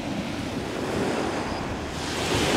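Sea waves wash over a stone pebble beach at sunset, a loud, continuous roar with gusty wind noise buffeting the microphone and no voices.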